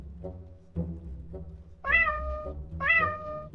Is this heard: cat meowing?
yes